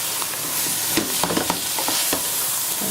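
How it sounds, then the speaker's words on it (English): Fat melting and frying in a pan as a substitute for mukkan while making watercress saag, a steady broadband sizzle with a few soft stirring knocks, close and moderately loud, with no talking. "Let that melt and fry out in this."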